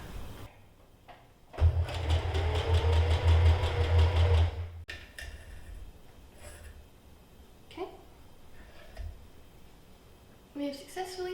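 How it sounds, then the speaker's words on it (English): A sewing machine stitches a fabric seam at roughly 3/8 inch, running steadily and loudly for about three seconds, with quieter talk before and after. "We have successfully sewed the top together at this point."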